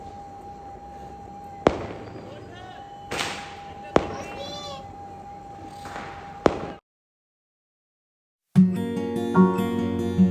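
Firecrackers burst during a Karwa Chauth night celebration, several sharp loud bangs spaced a second or two apart over a low hum and faint voices, followed by a pause and then clattering household noise.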